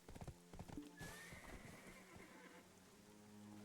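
Horse hooves in the game Black Desert clip-clop in a quick, steady rhythm, close and clear, with a brief neigh partway through.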